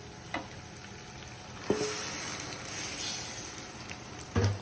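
Chicken frying with ginger garlic paste in a pan, giving a steady, fairly quiet sizzle with a few sharp clinks and scrapes from utensils, one near the end a little louder.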